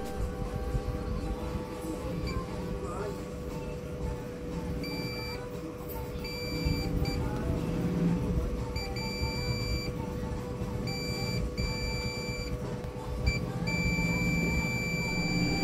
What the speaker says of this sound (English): Beep means shorted.